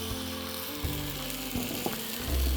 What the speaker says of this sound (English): We're simply gonna take these pork chops and pop them into this hot pan.